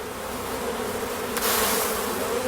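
Honeybees buzzing around a traditional straw bee skep produce a steady, close insect drone that thickens briefly in the middle, with no talking.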